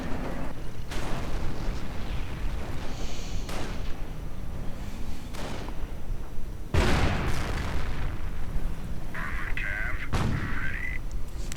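Explosions in a WWII strategy video game blowing up tank busters, with several heavy booms and sharp bursts rising out of constant battle noise and a dense, loud background rumble.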